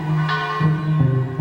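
Bells ring in overlapping tones, with strikes marking a slow pulse every half second or so, fairly loud and resonant.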